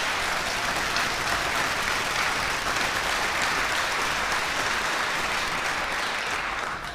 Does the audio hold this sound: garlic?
no